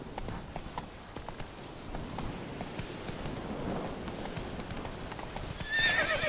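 Horse hooves clip-clop at a gallop in The Witcher 3, a steady rhythmic beat with rain pattering behind it and a neigh near the end.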